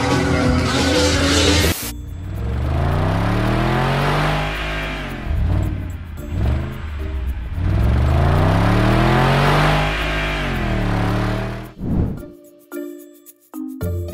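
Car engine running while driving, rising and falling through gears in repeated sweeping revs, loud and close, with a sharp cut before the engine drops away near the end, no voices.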